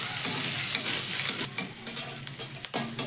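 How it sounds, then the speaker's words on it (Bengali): Finely chopped ginger, garlic and green chilli sizzle loudly as they are stir-fried in a pan, while a spatula repeatedly scrapes and stirs through the mixture. No talking. "আদা, রসুন আর কাঁচা লঙ্কাটাকে একটু নাড়াচাড়া করে ভেজে নেব।"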